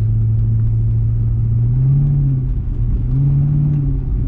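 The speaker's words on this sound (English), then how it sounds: "That's just me blipping the throttle." A car engine in second gear revs in short throttle blips, a steady low rumble that swells and eases twice, close and loud with no talking.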